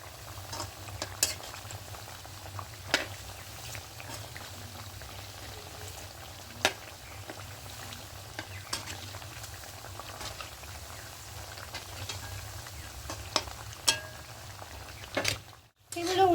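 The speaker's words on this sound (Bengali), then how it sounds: "উল্টো পাল্টা করে খুব ভালো করে ভেজে দিয়েছি" Steady low frying hiss of thekua, crisp sweet snacks, frying in oil, with occasional soft clinks and stirring scrapes near the pan, no voices.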